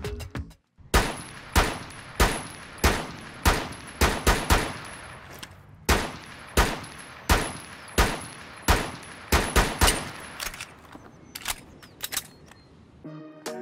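Rifle shots from Ash's weapon in Rainbow Six Siege ring out as a long run of sharp, evenly spaced single reports, each trailing a short echo. The shots bunch closer together near the end before a final isolated crack.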